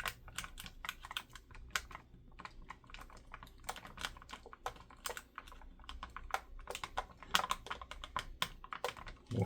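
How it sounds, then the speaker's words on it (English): Sprue cutters snip plastic toy parts from a sprue, giving quick sharp clicks in an irregular run that sound close and fairly quiet, with no talking. "these sprue cutters are actually pretty darn handy for this"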